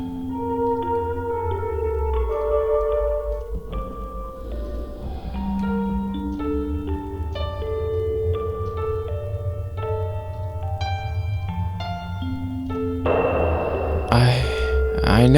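Piano melody in the video game Fatal Frame: Mask of the Lunar Eclipse, slow single notes over a soft, steady low ambient drone, with a brief rising swell of noise at the end.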